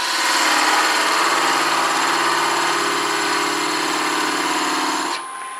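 A wood lathe spins steadily while parting off a mini baseball bat, giving a loud, continuous whirring hum with a faint scraping texture that drops off abruptly near the end.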